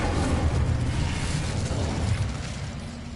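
An Incendio fire spell is cast in Hogwarts Legacy, producing a loud, roaring burst of flame with a deep rumbling body that holds for a few seconds and then slowly eases off.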